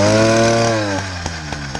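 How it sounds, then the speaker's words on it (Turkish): Small motor fitted to a bicycle runs loud and raspy at a steady idle, then fires four sharp exhaust pops in a quick irregular series as the engine note drops. "Evet egzoz patlatıyoruz."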